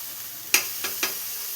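Onions browned in a pan being stirred after ginger garlic paste goes in, heard as three quick spoon scrapes and clinks over a faint, steady sizzle, no voices.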